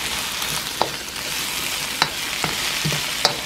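Onions and zucchini fry in a hot pan for Korean fried rice, making a loud, steady close sizzle broken by a few sharp clicks and scrapes from stirring, with no talking.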